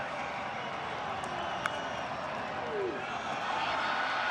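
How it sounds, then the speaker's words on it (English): Stadium crowd at a Boise State vs Hawaii college football game, a steady broad roar with a faint swell of reaction, continuous and distant-sounding, with a brief sharp crack partway through. "You can hear the crowd reacting."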